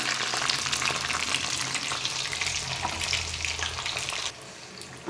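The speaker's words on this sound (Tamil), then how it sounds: "மறுபடியும் மீதி இருக்க சிக்கன் எல்லாத்தையும் சட்டியில் போட்டு பொரித்து எடுத்து விடுவோம்" Chicken 65 pieces deep-frying in hot oil in a pan, a dense continuous crackling sizzle heard close up that drops abruptly to a quieter fry near the end, no voices.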